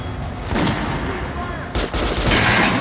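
Gunfire aimed at training dummies in Metro: Last Light Redux, rapid loud shots in a sustained burst with a brief pause near the end before firing resumes.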